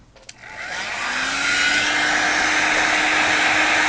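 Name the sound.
hair dryer on low setting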